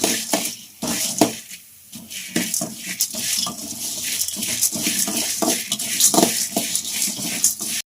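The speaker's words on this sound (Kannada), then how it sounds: "ಲೋ ಫ್ಲೇಮಲ್ಲಿ. ಅದು ಗೋಲ್ಡನ್ ಕಲರ್ ಬರೋ ಗಂಟ ನೀಟಾಗಿ ಚೆನ್ನಾಗಿ ಫ್ರೈ ಆಗಬೇಕು" Whole spices dry-roasting in a pan over a low flame until golden, with a steady crackle and repeated scraping and stirring strokes close by, no talking.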